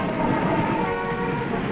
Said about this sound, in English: moving truck trailers on railroad flat cars between terminals